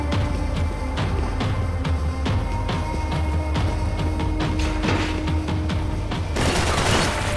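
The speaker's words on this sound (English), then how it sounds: "who's shooting at me?" Rapid gunfire in the video game Max Payne 3 fires toward the player, a dense sustained fusillade of overlapping shots and booms that stays loud throughout and ends in a harsher burst.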